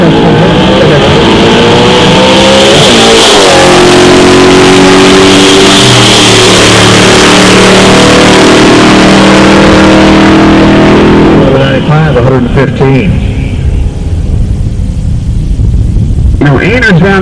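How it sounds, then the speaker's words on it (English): A drag racing car at a Midwest drag strip revs loudly and accelerates with a sweeping, rising engine roar that fades into crackling pops, while an announcer talks over it. "Frank Vermont, the sweetest sounding car on the ground."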